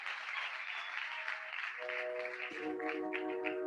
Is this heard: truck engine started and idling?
no